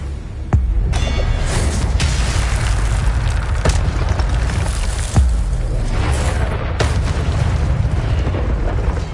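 Repeated Incendio fire spells being cast in Hogwarts Legacy on PS5, with loud booming fiery bursts over a dense rumbling combat din and a few sharp cracks.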